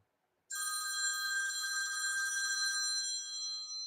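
A telephone rings with an incoming call, a loud, steady electronic trill that starts abruptly after a brief silence and continues unbroken to the end, with no voices present.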